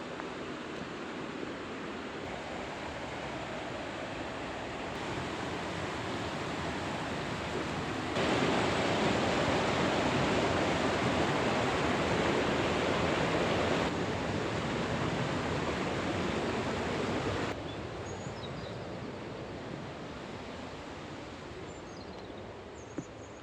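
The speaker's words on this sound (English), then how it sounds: "I'm going to stop a little bit to show you the river because it is beautiful" Flowing river rushing steadily, a broad continuous hiss of water up close that swells louder through the middle and then eases, with no talking.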